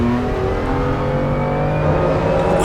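Race car in Assetto Corsa Competizione accelerating at Misano, a loud continuous engine drone with steady harmonic tones rising slowly in pitch, close and uninterrupted, with no voices.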